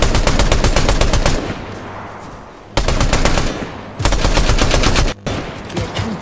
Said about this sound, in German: Hörst du Schüsse? Hast du auch Schüsse?